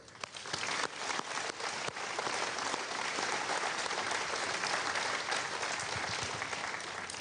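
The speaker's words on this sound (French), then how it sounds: "je vous demande de les applaudir, ils l'ont bien mérité." Sustained applause from a large crowd at an Arianespace rocket launch event, dense and steady throughout, with a slight swell at the start.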